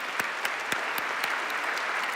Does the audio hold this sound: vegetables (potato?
no